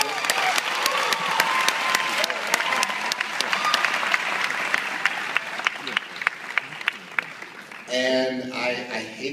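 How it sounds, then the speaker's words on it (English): An audience at the world premiere of Riddick applauds with a dense, crackling burst of clapping that continues for several seconds, then a voice speaks near the end. "They deserve a round of applause,"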